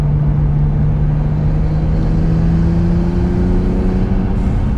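An Acura NSX sports car engine hums and revs in a loud, sustained drone with a steady tonal whine and a slight rise in pitch.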